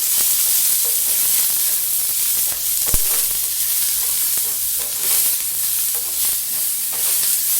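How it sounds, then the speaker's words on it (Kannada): Loud, bright sizzling of curry leaves, ginger and garlic frying in hot oil for fish sambar, a steady crackling hiss broken by one sharp tap of a utensil, with nobody speaking. "ಸ್ವಲ್ಪ ಕರಿಬೇವು, ಇದಕ್ಕೆ ನಾವು ಆಯಿಲ್ ಹಾಕ್ಕೊಂಡು ಇಟ್ಕೊಳ್ಳೋಣ"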